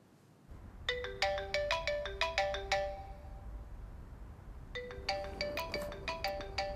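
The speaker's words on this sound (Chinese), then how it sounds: "许悦的电话接不接" A mobile phone ringtone plays a repeating melodic ring pattern, clear and close, with a pause of a couple of seconds before the ringing resumes.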